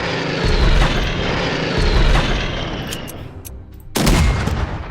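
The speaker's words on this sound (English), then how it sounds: "Alright, so we'll hit it with airstrikes first." Airstrike in the WWII strategy game Unity of Command II: a loud aircraft engine roar builds and holds with crackling bursts, fades briefly, then a sharp explosive blast hits near the end.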